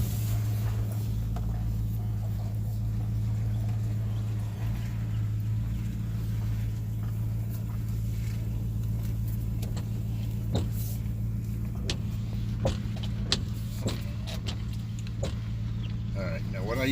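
A worn Nissan Titan pickup truck pulls out of a repair shop after rear brake caliper replacement, its engine a steady low rumble throughout with a few faint clicks and knocks near the end.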